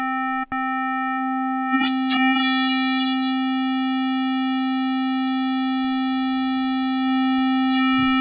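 A sustained buzzy Native Instruments Massive synthesizer tone holds steady while an oscillator modulates its filter open and closed, brightening and darkening the harmonics, with a quick rising chirp early on.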